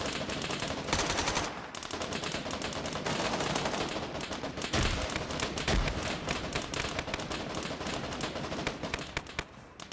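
A BMP gunner in Arma 3 fires loud, dense bursts of machine-gun fire with rapid cracks that overlap into a continuous fusillade for about ten seconds. There is no talk.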